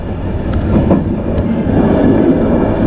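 Dogu Express overnight train from Kars to Ankara in Turkey running on rails, giving a steady, loud low rumble of the carriage with faint rattles and a couple of brief metallic clicks, heard close up with no talk.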